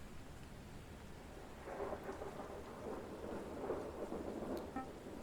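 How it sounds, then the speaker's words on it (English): Steady rain hisses throughout a video game scene, with low rumbling thunder swelling twice in the distance beneath the constant downpour. "It's raining outside, but I need some fresh air."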